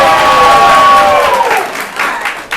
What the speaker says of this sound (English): You applaud for the one you think deserves the 5 points.